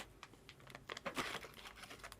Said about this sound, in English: So it comes in this little plastic bag.